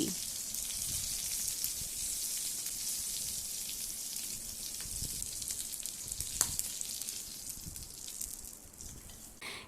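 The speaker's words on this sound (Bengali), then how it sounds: "অপর পাশটাকে হালকা করে ভেজে নিয়ে এবার আমি তুলে নিচ্ছি।" Steady, dense sizzle and crackle of shrimp frying in hot oil for doi chingri, with a few sharper pops and a faint clink near the end.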